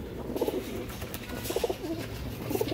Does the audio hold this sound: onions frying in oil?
no